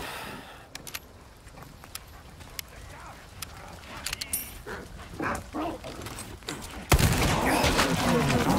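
Dogs barking and whimpering in Resident Evil 4 Remake near a cabin, scattered sharp yelps and barks at a distance, then a louder, denser burst of noise near the end.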